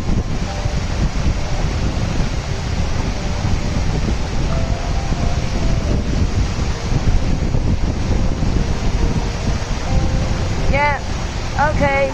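The Gljúfrabúi waterfall in Iceland roars as a loud, constant broadband rush that fills the whole stretch, with faint voices and a few brief squeaky chirps over the roar near the end.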